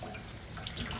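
Water drains out steadily while turkeys are processed on a homestead, a continuous close splashing hiss like a running tap that swells slightly toward the end, with no talking.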